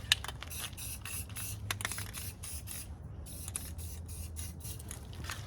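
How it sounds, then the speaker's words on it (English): Bead-blasted excavator roller bolts being spray painted, with a series of short aerosol hisses in quick pulses, close and moderately loud. "these bolts here, since I bead blasted them, I just throw a little paint on them."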